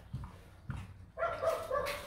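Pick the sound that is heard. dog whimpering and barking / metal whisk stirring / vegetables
dog whimpering and barking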